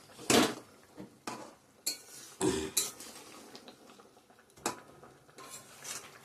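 A cooking pot of fish curry with taro is handled and lifted off the stove, giving a series of sharp metallic clanks and scrapes of pot and utensil, irregular and close, with quiet pauses between.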